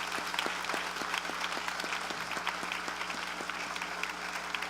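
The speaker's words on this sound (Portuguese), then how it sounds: "Vamos recebê-lo com palmas." A church congregation claps steadily to welcome a pastor, a dense continuous applause heard at moderate distance over a faint low hum, with no speech on top.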